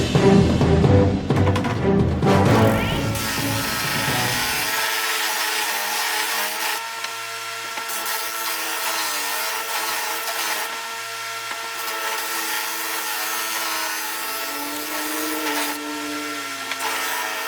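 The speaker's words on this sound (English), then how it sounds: "I might just pass this on the disc sander" A disc sander grinds against a wooden vase, a steady humming whine with a constant abrasive rush that holds evenly throughout after a brief rougher start.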